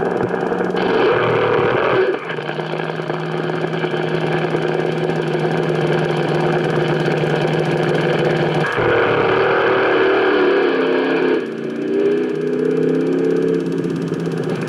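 A fuel-burning 392 Chrysler slingshot dragster engine at a 1980 Long Marston drag race rumbles loud and steady nearby, its pitch shifting a couple of times as it revs.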